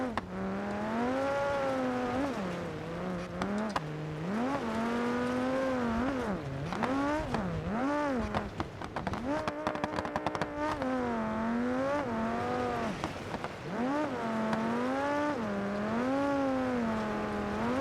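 A BeamNG Drive video game car with engine damage revs repeatedly through rising and falling pitch sweeps, the simulated engine whining in rhythmic surges over about eighteen seconds, with no talking over it.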